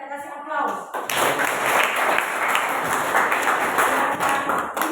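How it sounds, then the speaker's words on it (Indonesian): A classroom audience applauds group 3, a dense burst of clapping that starts about a second in after brief speech and holds steady, close and loud, through to the end. "kita kasih aplaus"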